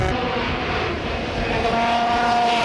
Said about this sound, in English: Don't forget Dunlop on the 250 Honda, the one that he rode in the TT